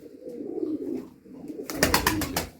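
Breeding pigeons coo in a loft, giving a short burst of close, soft, throaty calls after a few quieter murmurs. No voices are heard.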